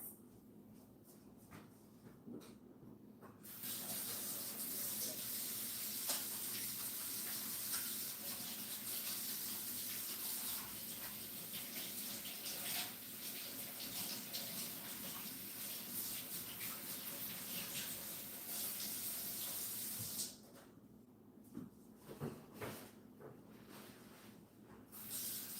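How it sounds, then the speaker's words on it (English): A tap runs steadily for about seventeen seconds as hands are washed, a close, continuous hiss of water that stops abruptly, with quieter handling noises before and after. "I'm gonna wash my hands and get a wet wipe."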